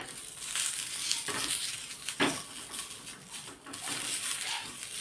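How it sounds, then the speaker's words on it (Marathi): A whole tomato and chillies roast in a pan, giving a faint, uneven sizzle with soft crackles and occasional scraping bursts. "आता हा टोमॅटो आणि मिरच्या आपण एकत्र भाजून घेऊ"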